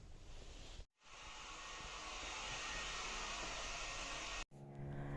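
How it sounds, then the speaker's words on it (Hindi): A hair dryer runs loud and steady at close range, a continuous broadband whoosh that cuts out briefly twice. "हेयर ड्रायर का शोर है।"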